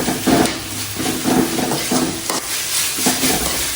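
Chicken gravy masala sautéing in a pan over a low flame, soft sizzling under repeated rhythmic scraping and stirring strokes against the pan, close and fairly loud.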